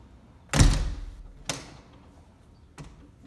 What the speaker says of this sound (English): Close the door, lift the handle, securing the deadbolt, and then lock it.